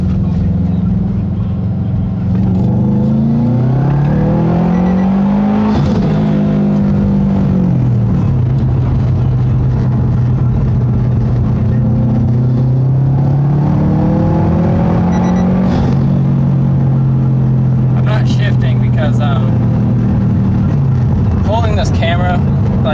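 A 2012 Subaru STI, stage 2 tuned, pulls hard in second gear, its loud engine note climbing and dropping as revs rise and fall, with a brief shift-like dip and wind roar throughout, heard from inside the car.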